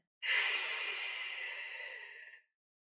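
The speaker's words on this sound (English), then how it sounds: "And then as you exhale and try to pull all of your body away from the block." A single deep, active exhale during a thoracic extension breathing exercise against a block, heard as a close, steady breathy rush lasting about two seconds that slowly fades, with no talking.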